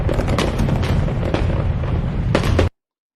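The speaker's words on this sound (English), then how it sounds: "I think I deserve some fireworks." Fireworks crackle and boom in a dense, continuous barrage, loud and close, with sharp bursts layered over a rumbling wash before cutting off abruptly; no voices.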